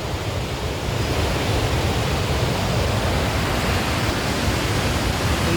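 The Ravi river runs as a stream down a rocky mountain path, a dense, steady rush of water that stays loud and constant throughout with no break or change.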